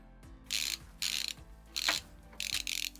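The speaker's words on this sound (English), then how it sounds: "Screwdriver that I'm using is a ratchet one." A ratchet screwdriver used to take apart a gaming PC clicks in five quick bursts of dense ratcheting, close and crisp, with short pauses between strokes.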